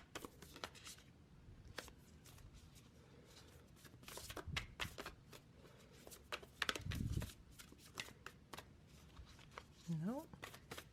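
Tarot cards shuffled by hand during a reading: quiet, repeated riffling and slapping bursts run for about ten seconds, heard close and soft, with faint talk underneath.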